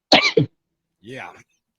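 Two short, harsh coughs come close together, then a softer, voiced throat sound follows after a pause, all close to the listener; the bursts sound partly voiced, like a person imitating a cough.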